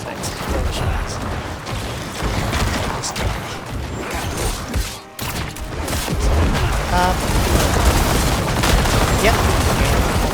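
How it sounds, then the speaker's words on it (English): Rapid chains of explosions and booming blasts from combat in Diablo 4, a hardcore Necromancer clearing Pit tier 100, dense and continuous with layered gunfire-like bursts, with voices talking over the action. "tendrils, pulls everything together, and then all explosions."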